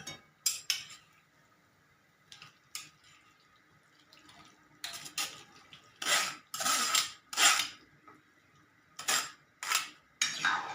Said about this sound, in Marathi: आता आपण टाकणार आहोत यामध्ये पास्ता.